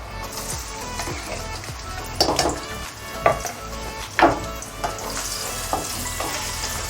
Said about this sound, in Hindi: मैंने चॉप कर ली है और प्याज मैं ऑयल में डाल रही हूँ।